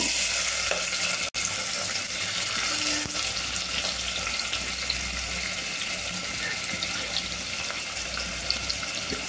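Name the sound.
onions and green chillies frying in oil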